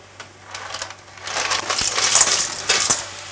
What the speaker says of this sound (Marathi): यामध्ये शिंपल्या आहेत ना त्या घालूया